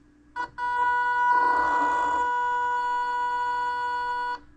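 Steady electronic reverse warning beeping from an MN Model MN222 RC crawler truck, holding for several seconds with a brief blip before it, clear and close, no voices over it.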